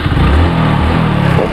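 A motorcycle engine that has just been restarted while running on turpentine oil instead of petrol idles loud and close, with a steady low throb and a slight rev.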